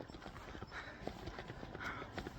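Horse hooves clip-clop in a steady, close rhythm along the route toward the snow in Kashmir, with a busy background murmur underneath.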